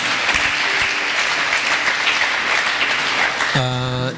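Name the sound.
applause in church for God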